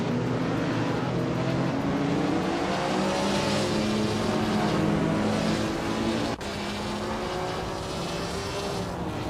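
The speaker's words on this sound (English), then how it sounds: "driving a 1957 Ferrari 250 Testarossa" Video-game engine sound of a 1957 Ferrari 250 Testarossa racing, a steady loud engine drone with rising and falling pitch as it runs continuously, with a brief dip partway through.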